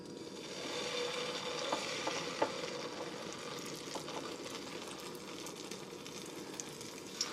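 Continuous hissing sizzle of Korean jeon batter, ladled in small portions, frying in a hot pan, close and steady, with a few faint clicks and crackles scattered throughout.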